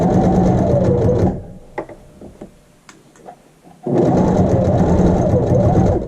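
A sewing machine runs an edge stitch along a patch over a slit hole, loud and close in two steady whirring bursts, separated by a quiet gap of clicks and fabric handling.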